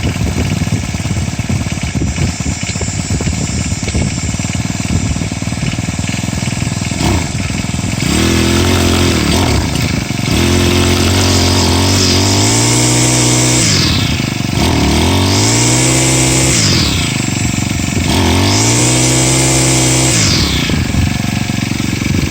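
A Husqvarna 324L four-stroke gas trimmer runs loud and close, its engine droning steadily before revving up and down in several rising and falling surges.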